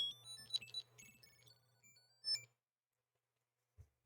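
A Tile Bluetooth key tracker plays a short, faint electronic melody of high beeping tones in a few bursts, then falls silent, followed by a small low thump.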